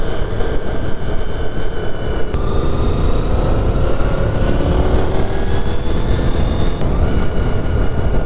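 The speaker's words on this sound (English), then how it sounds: "just listen to that growl out of that exhaust and that engine." A loud, steady VFR RC46 motorcycle engine roar with a deep exhaust growl, continuous and close, with harmonic tones shifting slightly as it revs.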